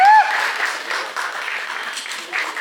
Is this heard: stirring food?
no